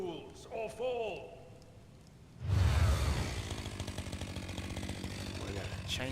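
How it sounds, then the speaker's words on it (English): A chainsaw blade in a video game roars in abruptly and keeps up a loud, steady buzzing drone, following an earlier stretch of spoken voices and game effects. "We got a chainsaw blade."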